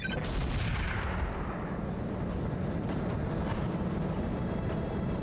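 Heavy mech weapons fire in the BattleTech game, heard as a sustained, dense roar of booming blasts and rumbling impacts that runs loud and unbroken throughout, with no talk.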